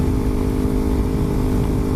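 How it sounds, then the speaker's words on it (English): Loud, close vehicle exhaust rumble, a deep continuous throbbing drone with a steady pulsing texture and no voices over it. "I can't tell how loud I'm talking over the exhaust"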